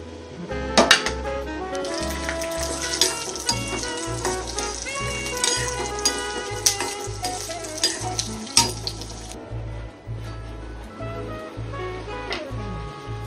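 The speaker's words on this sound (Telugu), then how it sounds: "ఇందాక చూపించిన తాలింపు దినుసులన్నీ వేయాలండి" Tempering spices, with green chillies, curry leaves and asafoetida, crackle and sizzle in hot oil in a second kadai as a rice ravva pulihora is made. The steady frying hiss runs throughout beneath continuous rhythmic background music.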